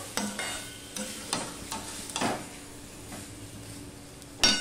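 Liver is stirred with tomatoes in a pan, a series of spoon scrapes and knocks over a low sizzle, near and unaccompanied by speech, ending with a sharper clatter.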